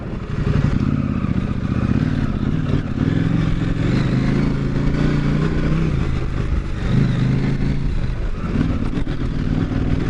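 A KTM 790 motorcycle rides through wet terrain at easy speed, its engine droning steadily and close with slight rises and dips in revs, while wind and clatter from the ride sit around it.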